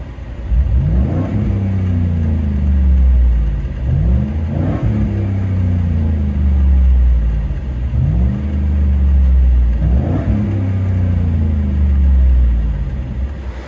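A 2009 Chevy Silverado with a 5.3L V8 and a Flowmaster Super 10 side exhaust gets several sharp throttle blips, each a deep rising snarl that falls back to a rumbling idle, loud and close, with no talking.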